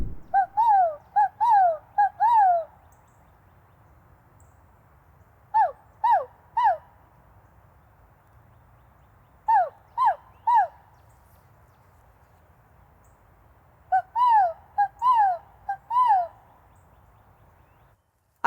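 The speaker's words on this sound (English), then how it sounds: "And those were crows or blackbirds." Bursts of loud, harsh bird calls come in short clusters of three or four, separated by quiet gaps, with faint low background noise.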